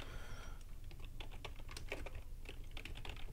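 Quick clicking keystrokes on a computer keyboard as a folder name is typed, a brisk uneven run of light taps heard close and fairly quiet.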